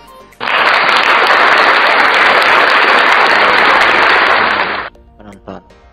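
Canned audience applause triggered from a V8 soundcard, a loud steady burst of clapping and crowd noise lasting about four seconds before cutting off abruptly, followed by faint clicks.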